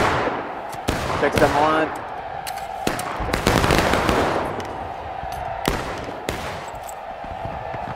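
Rifles firing in a reenactment skirmish, a string of sharp, loud reports at irregular intervals, some close and some farther off, with a voice calling out between shots.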